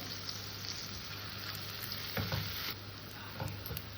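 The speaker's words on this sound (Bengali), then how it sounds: "পেঁয়াজটাকে আমি ভালো করে লাল লাল করে ভেজে নেব" Onions with salt frying in a pan, giving an even close sizzle broken by a few clinks and scrapes of stirring, with no voices.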